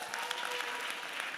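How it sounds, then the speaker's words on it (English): Short, steady round of applause from an audience at a Ghana diaspora event, moderately loud, even clapping with no break. "Give her a round of applause"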